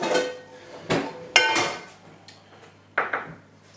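A small frying pan is picked up and set down, giving several close metallic clanks and scrapes of cookware in an irregular sequence with quiet gaps between them.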